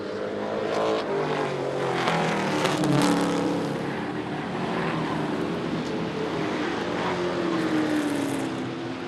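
Race cars roar around a super short track on the last laps of a 2017 series race, engines droning steadily and swelling as the pack passes, with a pitch sweep as a car goes by.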